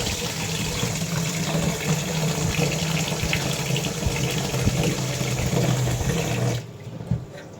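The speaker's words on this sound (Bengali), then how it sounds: "জলটা ভরে নিই আগে।" Water runs steadily from a tap into a container, a continuous loud splashing gush that stops abruptly near the end, followed by a brief clunk.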